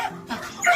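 A rescued dog at a dog shelter in China coughs during a cold snap, giving a short, harsh, close burst with no talking.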